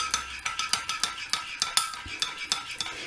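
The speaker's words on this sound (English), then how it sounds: "So 3 little squidges of salt, and stir that in, and that will melt in quite nicely" A spoon stirs salt into molten raw chocolate in a bowl, giving a quick, steady run of scraping and light clinking strokes, close and continuous.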